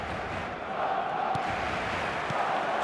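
Stadium crowd in an eFootball video game, a steady, loud roar of cheering and chanting that swells slightly and holds throughout.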